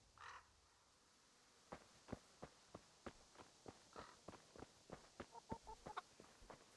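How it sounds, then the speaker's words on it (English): In Kingdom Come: Deliverance, chickens cluck and peck in a farmyard, a rhythmic series of short close taps and clucks following a brief earlier sound. "Feed the chickens."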